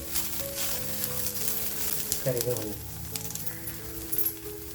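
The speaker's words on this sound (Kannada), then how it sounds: "ಸ್ವಲ್ಪ ಬೆಳ್ಳುಳ್ಳಿ ಹುರಿಬೇಕು" Garlic frying in a pan for a ridge gourd chutney, a steady close sizzle with occasional stirring, while someone talks over it.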